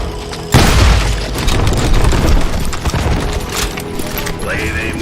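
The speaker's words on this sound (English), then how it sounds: "They're shooting in the street!" Gunfire erupts in a town street in the Western shooter game Call of Juarez Gunslinger, opening with a loud boom followed by a dense stretch of shots and impacts, with voices mixed in.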